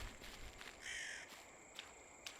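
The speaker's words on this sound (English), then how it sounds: "Freaking crows." Crows caw in the horror video game Naribikimura, outside a school building, with a sustained harsh call followed by two shorter caws over a faint ambient background.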